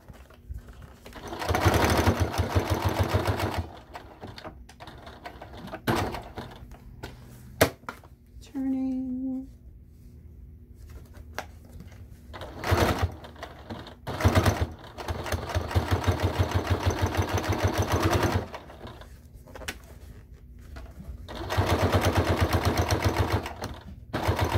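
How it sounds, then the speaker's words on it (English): A sewing machine back stitching a cork billfold wallet runs in several rapid rattling bursts separated by pauses, with a brief whine and a short stretch of talk between runs. "Gave it a little bit of extra back stitching"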